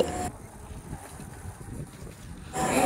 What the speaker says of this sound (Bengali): অনেক হাওয়া চলছে তো সেই জন্য